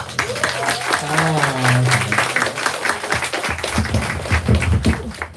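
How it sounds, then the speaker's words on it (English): A bookstore audience at Brookline Booksmith applauds author TJ Klune in steady, dense clapping, with a voice talking over it partway through. "please round of applause for our guest this evening"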